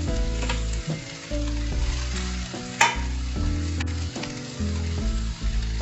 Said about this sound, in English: Stir fry under low flame for 2 minutes. Now add fried okra.